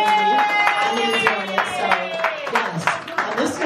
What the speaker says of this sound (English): Round of applause for Tanya